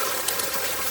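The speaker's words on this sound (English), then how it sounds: "there's lots of water going out there" Water gushes steadily out of a drainage pipe in rural Thailand during the rainy season, a loud, continuous close-up rush with no break.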